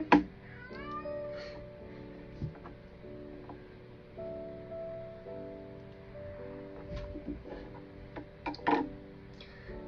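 A cat meows repeatedly indoors, the calls fairly close but soft, with light ticking and small household noises in between.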